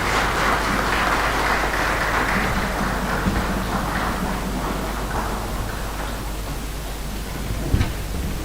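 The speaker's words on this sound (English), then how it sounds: "Please give a huge round of applause." Audience applause at the inaugural session of an international healthcare conference, a dense steady wash of clapping hands filling the hall for several seconds, slowly thinning toward the end.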